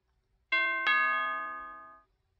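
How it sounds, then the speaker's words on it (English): A two-tone ding-dong doorbell chimes once in a card-based video game as a prestige guest arrives, both notes clear and ringing out alone against silence before fading. "a prestige guest should ring the doorbell"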